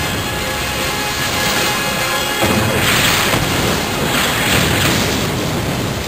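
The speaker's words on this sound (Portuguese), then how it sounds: "O Rosney e King George se aproximaram abrindo fogo implacavelmente." Naval artillery from the battleships King George V and Rodney firing on the Bismarck, heard as dense, continuous booming and crashing, with heavier blasts swelling in the second half.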